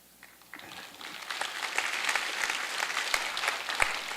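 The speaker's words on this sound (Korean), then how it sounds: "강성순 집사님 댁에 박수 한번 할까요?" Congregation applause during a Sunday church worship service, rising from scattered claps into a steady, dense round of clapping that holds for several seconds.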